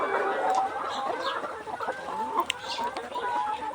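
Layer hens on a poultry farm cluck and murmur together, several birds close by, producing overlapping short calls and drawn-out croons at a moderate, steady level.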